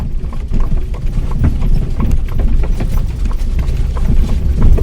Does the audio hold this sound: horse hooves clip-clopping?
yes